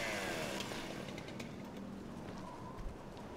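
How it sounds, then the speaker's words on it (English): A chainsaw in Resident Evil Revelations 2 buzzes faintly and steadily through a dense noisy game ambience, with bird-like cooing mixed in, and the sound seems distant. "Sounded like a chainsaw."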